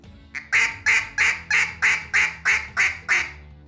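Duck call blown in the cut-down style: nine quick, evenly spaced nasal quacks in a steady rhythm, loud and close with no talking.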